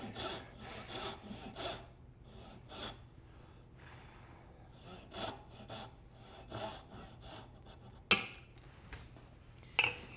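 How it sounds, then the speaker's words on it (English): Small 3/4 dovetail saw cutting through wood, a steady run of close, rhythmic rasping strokes with a couple of sharper knocks near the end; no talking. "I'm using my little 3/4 dovetail saw"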